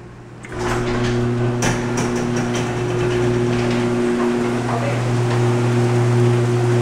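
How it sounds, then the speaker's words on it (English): Steady, loud rain pours down outdoors near a university dorm during move-in, a continuous hiss that runs unbroken after a brief quieter opening, with a low steady hum underneath. "Yeah, can you hear that? That's rain."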